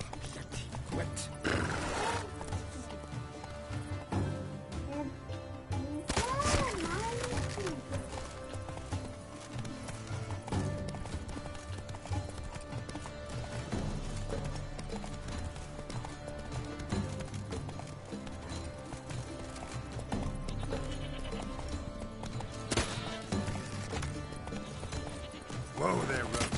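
Roach the horse galloping in The Witcher 3: Blood and Wine, rapid hoof clip-clop with snorts and a whinny, over game music, while a voice speaks now and then.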